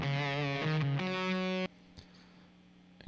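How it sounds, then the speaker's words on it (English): Electric guitar played through a Mini Fuzz V2 capture on a digital rig, a few sustained, buzzy, harmonically rich chords changing pitch, then cut off abruptly into near silence with a faint lingering hum. "Incredible fuzz."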